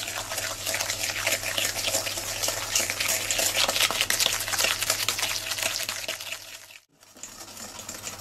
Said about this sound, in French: les graines de vanille et les 6 jaunes d'œufs que je rajoute ici, de façon à obtenir un mélange bien mousseux